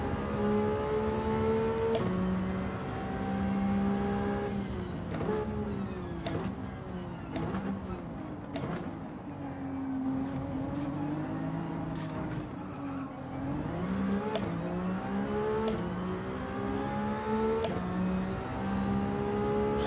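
Ferrari Vision GT race car in Gran Turismo 7, heard from the cockpit with traction control off, engine revving and shifting through rising and falling pitch sweeps, loud and continuous throughout.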